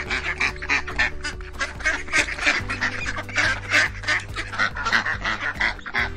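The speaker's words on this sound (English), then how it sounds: "Hundreds of ducks surround a car" Hundreds of ducks crowd a road around a car in southern China, giving a dense, continuous chorus of overlapping quacks and honks throughout, loud and close, over a low steady rumble.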